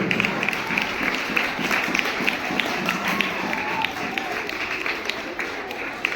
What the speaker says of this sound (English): Claps must continue.